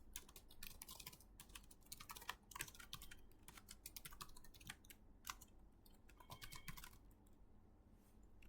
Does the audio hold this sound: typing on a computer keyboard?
yes